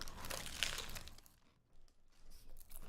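Paper food wrapper crinkling close up, a dense rustle in the first second that fades and then returns in softer bursts, with no talk.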